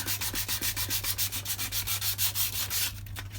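Rough paint being sanded off the rear wheel of a Honda VTR 1000 Firestorm motorcycle, a steady run of quick, rhythmic back-and-forth scrubbing strokes, close and fairly loud, with a constant low hum underneath.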